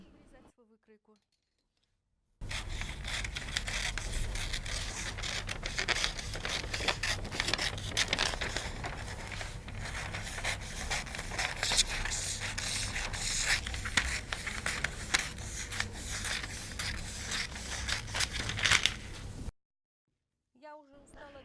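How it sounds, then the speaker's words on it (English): Scissors cutting a paper dress sewing pattern, a continuous close scraping and snipping of paper for many seconds, framed by brief moments of talk at the start and end. "I need to cut the pattern."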